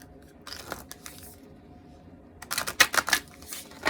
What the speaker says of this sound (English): I can still shuffle